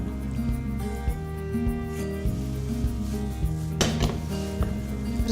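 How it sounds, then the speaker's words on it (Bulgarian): A spoon stirs crushed butter biscuits, ground walnuts and melted coconut oil in a bowl, giving continuous close scraping and rubbing against the bowl, with one sharper clatter midway. "Разбъркваме, за да се смеси всичко."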